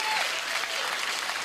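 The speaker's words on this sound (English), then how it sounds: "you really shouldn't applaud" Studio audience applause at a comedy show, a short loud burst of clapping filling the room, with no speech over it.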